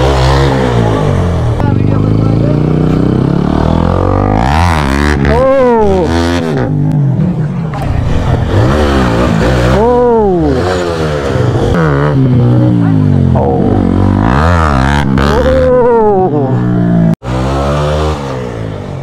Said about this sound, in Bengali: সবাই একসাথে হুইলি মারলাম